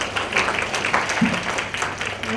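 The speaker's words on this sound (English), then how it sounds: "Give a big applause." Audience applause fills a school stage event, a steady wash of clapping from a crowd that holds at an even level for the full stretch, with a faint voice briefly rising beneath it.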